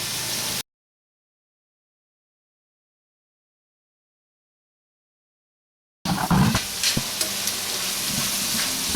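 Mushroom medley frying in butter, a spoon stirring through the pan with soft scrapes over a steady sizzle after a long stretch of silence.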